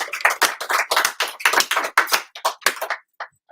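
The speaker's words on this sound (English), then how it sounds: "Can we get a big round of applause?" A small live audience claps in an uneven round of applause, bursts of close handclaps rising and thinning, then trailing off into a brief pause.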